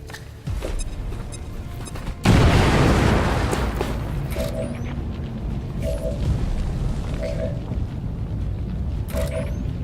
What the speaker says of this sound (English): Actually, how about you grenade this pumpkin? Impact detonation.